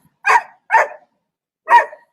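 Dogs barking outdoors: three sharp, loud barks, two close together then a pause before the third, with silence between them.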